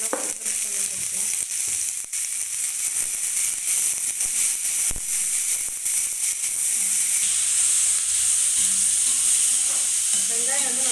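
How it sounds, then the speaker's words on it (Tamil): Onions sizzling loudly in a pan for bread upma, a dense continuous fry close up, with faint voices in the background at times. "வெங்காயம் வந்து நல்லா செவக்க வதங்கணும்."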